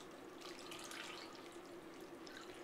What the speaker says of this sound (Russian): Вот, заливаю все это бульоном.